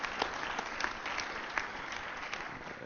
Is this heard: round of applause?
yes